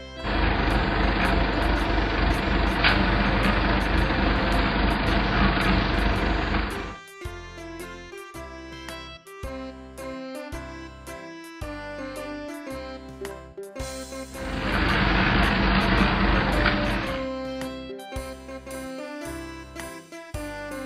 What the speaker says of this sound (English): Combine harvester